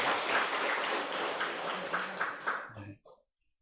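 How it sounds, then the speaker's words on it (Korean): A church congregation at a Sunday worship service in Gwangju claps in a dense, sustained burst for nearly three seconds before stopping abruptly. "박수 한번 치겠습니다."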